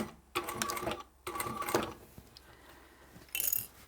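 Sewing machine back stitching a seam on a small lined pouch, in three short bursts of rapid mechanical chatter separated by brief pauses, close and fairly quiet.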